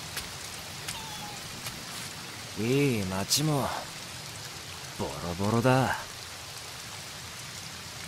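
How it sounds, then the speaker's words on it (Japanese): Steady rain falls throughout as a continuous hiss, while a voice speaks in two short bursts over it. "それにしても嫌な雨だな。"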